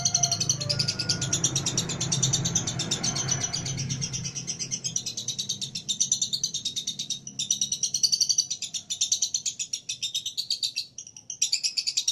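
Lovebirds chirp in a rapid, continuous stream of high, rhythmic tweets, close and fairly loud, with a rougher, busier stretch of calls at the start before settling into steady repeated chatter; no one speaks.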